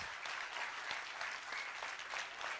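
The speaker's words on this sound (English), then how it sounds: "They deserve a bigger round of applause." A school annual day audience claps steadily, a dense, continuous round of applause from a crowd with no voices rising above it.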